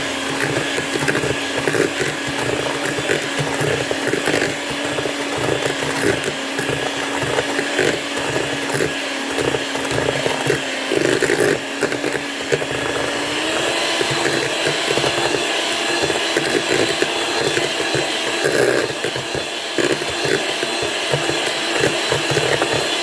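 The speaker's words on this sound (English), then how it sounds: "So we are going to use our electric hand mixer." An electric hand mixer beats a sugar mixture for buttered mamon, giving a steady, loud motor whir with rattling beaters that shifts slightly in pitch midway and runs continuously.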